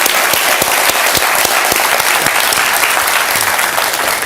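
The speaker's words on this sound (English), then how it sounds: "Please join me in one last round of applause as the President" A large audience at a formal conversation event with the President of Nigeria applauds steadily as he departs, a dense, continuous clapping that holds at an even, loud level throughout with no voices standing out.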